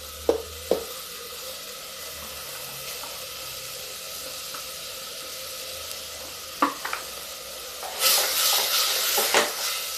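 Soaked chana dal tipped into a pan for zero-oil kaddu sabji and stirred: scattered spoon knocks over a low steady sizzle, then a louder burst of hissing and scraping near the end, without speech.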